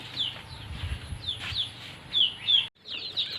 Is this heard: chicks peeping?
yes